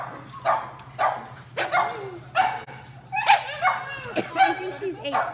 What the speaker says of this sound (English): Here we got Butterball. I think she's 8